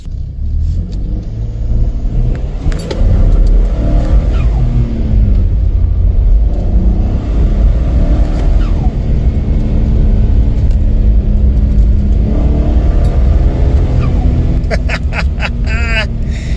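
A 2025 Ford F-series truck fitted with an AFE Magnum Force Stage 2 intake revs in sport mode with the windows up, a loud, steady engine rumble rising and falling through repeated accelerations, heard from inside the cab.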